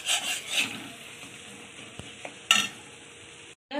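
Masala for potol korma fries with yogurt in a pan, a low sizzle under rasping stirs and scrapes of a spatula, with a couple of sharp knocks before stopping abruptly.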